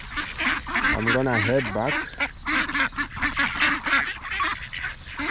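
Ducks quacking and honking at a feeding spot in New Zealand as they are tossed bread, a busy overlapping chorus of calls near and far, with a person talking over them.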